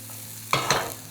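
Butternut squash pieces are tossed with a spoon of sesame oil and a pinch of salt, giving two quick, close scraping swishes after a moment of quiet.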